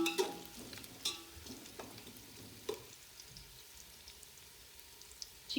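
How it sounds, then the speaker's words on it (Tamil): Onions sautéing in a pan for Bangalore Donne biryani: a soft, steady sizzle with occasional close clicks and scrapes of stirring. "ஆனியன் இந்த அளவுக்கு வதங்கினா போதும்"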